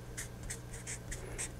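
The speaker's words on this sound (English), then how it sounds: "Let me write that down." Pen strokes scratch across paper at a desk as a math note is written out, short soft scribbling bursts over a low steady hum.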